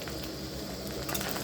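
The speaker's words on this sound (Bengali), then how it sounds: "মশলা, রসুন, আদা রসুনকে একসঙ্গে ভাজানো হচ্ছে।" Spices, onion, chili, garlic and ginger frying in a pan alongside lightly fried chicken, giving a steady close sizzle with a few soft clinks of utensils against cookware.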